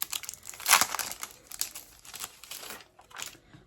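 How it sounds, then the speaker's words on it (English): Puffy scrapbook stickers are pulled from plastic packaging in a run of close crinkling and rustling sounds, with one louder crackle near the start and softer irregular crinkles after it. "I'm going to pull out these puffy stickers now."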